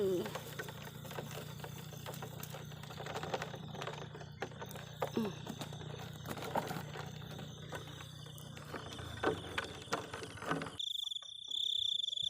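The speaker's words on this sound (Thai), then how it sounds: "อันนี้คือจิ้งหรีดนะคะ" Black crickets kept in a container give off rapid chirping and trilling bursts over a quiet background, with a sustained buzzing tone and scattered clicks before the sound cuts off sharply near the end.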